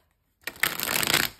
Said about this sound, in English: sometimes I have to shuffle for a while before I feel like I've got a connection